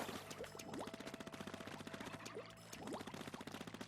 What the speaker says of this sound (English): It's basically a machine gun.